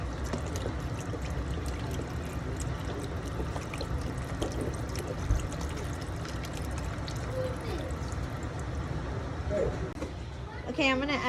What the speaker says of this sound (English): now I have a 32-ounce vegetable stock, and I'm going to pour it all in here